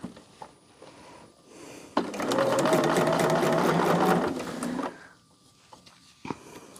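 A sewing machine stitches pieces of quilt fabric for a heart block, running in one steady, loud burst of about three seconds, with quieter handling of the fabric before and after.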